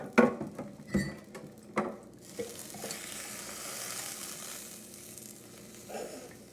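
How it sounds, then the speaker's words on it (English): Food sizzles steadily in a hot pan after a few sharp clattering knocks, the frying hiss holding at a moderate level throughout. "Ooh, I like that sizzle."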